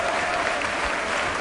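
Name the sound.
audience applause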